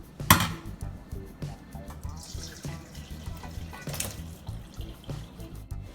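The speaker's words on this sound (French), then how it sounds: "versez le contenu du chaudron dans la passoire" Boiled potatoes and their cooking water poured from a pot into a colander, a soft splashing, trickling pour with a few dripping spatters, fairly quiet and close.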